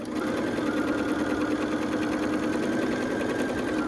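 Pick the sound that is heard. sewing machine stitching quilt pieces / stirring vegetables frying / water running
sewing machine stitching quilt pieces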